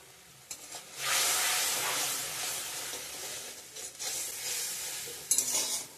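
A potato and pointed gourd curry being sautéed with turmeric and salt in a pan, with a loud sizzle rising and falling under stirring scrapes and a sharp clink of the spoon near the end.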